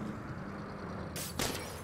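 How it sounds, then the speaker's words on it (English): Car window glass shatters in the Saints Row video game on PS5. Two sharp, bright smashing bursts rise quickly above a low, steady game background, the second a little louder. "What am I doing? Smashing windows."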